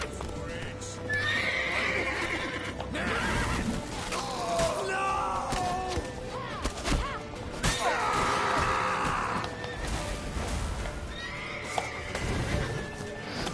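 A horse in The Witcher 3 neighs and whinnies several times over clip-clopping hooves, mixed with game crashes and thuds while a person talks over the action.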